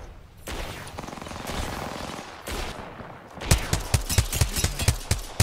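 Gunfire in the Apex Legends video game: a loud rushing blast of noise gives way to rapid, punchy bursts of automatic shots that ring out close and dense.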